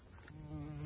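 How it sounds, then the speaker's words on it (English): A bee buzzes close by outdoors during a fall snake-flipping outing in Georgia, a steady droning hum that grows slightly louder as it nears, heard alone without talk. "Ah! A bee!"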